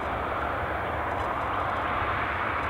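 Jet2 Boeing 737 bound for Geneva at Edinburgh Airport, a steady broadband engine roar, fairly loud and constant, with no talk.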